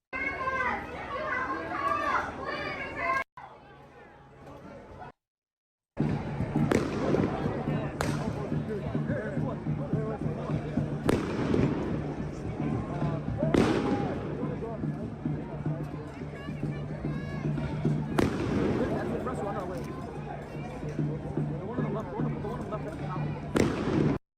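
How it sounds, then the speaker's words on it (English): Concussive sound devices detonate at a campus protest clash with police, sharp loud bangs recurring every few seconds over a constant crowd din and children's voices. "Bunch of sound concussive bombs. Just means big bangs."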